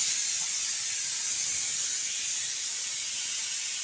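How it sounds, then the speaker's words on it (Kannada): A pressure cooker on a kitchen stove vents steam in a loud, continuous, steady hiss that runs unbroken the whole time, close by and with no voices. "ಮಧ್ಯಾಹ್ನ ಅಡುಗೆಗೆ ರೆಡಿ ಮಾಡ್ತಾ ಇದ್ದಾರೆ ಕುಕ್ಕರ್ ಕೂಗಿಸ್ತಾ ಇದ್ದಾರೆ"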